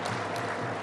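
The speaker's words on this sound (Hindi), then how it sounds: "मैं आप सबसे निवेदन करता हूं कि जोरदार ताली बजा के मुख्यमंत्री जी का अभिनंदन करें" Audience at a government employment-day event applauding the chief minister, a steady, even wash of clapping that holds at a moderate level throughout.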